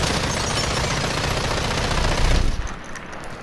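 Sustained hip-fire from a 40K Bolter in Modern Warfare 2019, a loud, dense stream of rapid gunshots that runs for over two seconds before cutting off into a short ringing tail.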